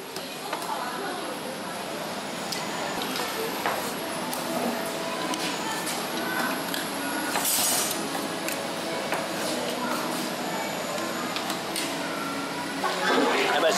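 Metal spatulas scrape and clink on a cold plate as Thai rolled ice cream is made at a street stall in Southeast Asia, a busy clatter of taps and scrapes under someone talking and background bustle.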